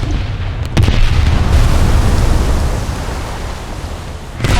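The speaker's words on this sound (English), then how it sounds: "You've got a Dido shooting at you." Naval gunfire from a Dido-class cruiser in a naval combat game: a loud boom at the start over a dense, continuous rumble of battle noise, with another burst near the end.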